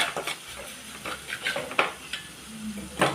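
Ingredients with chilli and pepper powders being sautéed in a pan for a kozhuppa thoran, quick irregular spatula scrapes and clinks over a soft sizzle, close and without speech.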